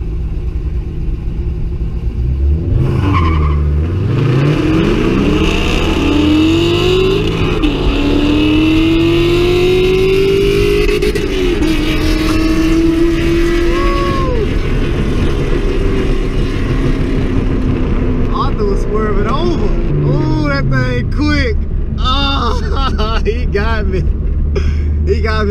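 An Audi S4 and a Terminator Cobra race side by side, their engines roaring loud and close with rising, sweeping revs through the run and a deep rumble underneath, fading back near the end.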